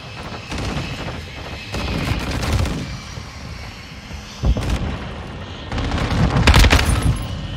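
Video game battle with a VTOL aircraft droning overhead while bursts of automatic gunfire crackle in rapid volleys, loud and dense, swelling toward the end.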